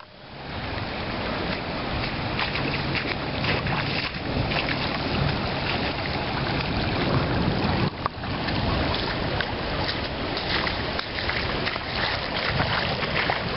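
Storm water rushes toward a culvert, making a loud, continuous broadband wash with gusty, wind-like rumbling and a few brief dips.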